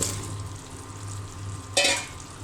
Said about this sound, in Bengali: মশলা কষানো হয়ে গিয়েছে, আমি এখন আলু দিয়ে দিলাম